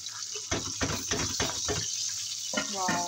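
Curry leaves hit hot oil for a dhaba-style chana dal tempering, producing a brief, bright hiss and crackle close by while someone talks over it.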